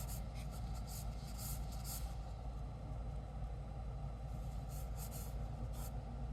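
A pencil sketches the details of a building on paper, giving faint scratchy strokes in short bursts over a steady low rumble.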